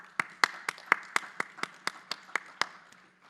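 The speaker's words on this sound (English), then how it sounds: "So let's give our platinum level sponsors a round of applause too" Applause for platinum level sponsors at a high school education celebration: a small group clapping in a loose, evenly spaced rhythm of about a dozen sharp claps, fairly close, with no talk over it, fading out at the end.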